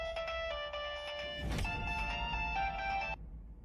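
A mobile phone ringtone plays a steady electronic melody of sustained tones for about three seconds, loud and close, with a brief noisy burst in the middle before the tune cuts off.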